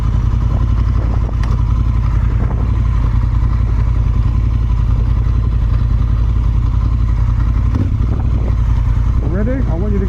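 A BMW GS motorcycle with a DCT gearbox runs with a steady engine drone and clatter throughout, as people talk over it before it revs and rides off.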